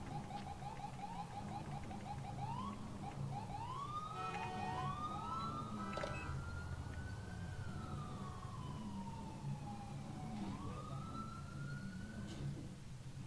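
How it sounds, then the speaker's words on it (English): Police car sirens in the GTA IV video game wail and yelp continuously, rising and falling over steady engine and road rumble, loud and close throughout with overlapping siren tones. "Sirens all the way up to the dang scene."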